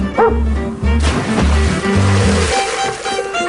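Shadow, a rescue dog, gives a few short barks over a loud, steady musical backing.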